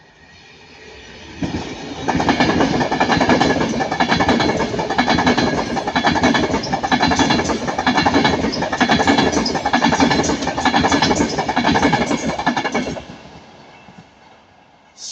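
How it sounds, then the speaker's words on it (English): Train 39128 City of Preston, running from Manchester Piccadilly to London Euston at Ardwick, passes at speed. It is a loud, sustained roar of wheels and carriages with rhythmic clatter, building in quickly, holding for about eleven seconds, then fading. "39128 City of Preston, going from Manchester Piccadilly to London Euston"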